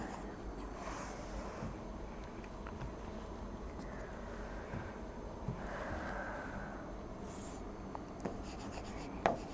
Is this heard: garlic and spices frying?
no